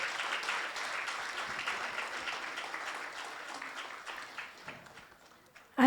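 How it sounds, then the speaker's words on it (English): Audience applause at an International Women's Day celebration held by the ICAI Oman chapter, a steady dense patter of many hands that slowly thins out toward the end before a sudden loud burst at the very close. "Let's welcome them with a big round of applause."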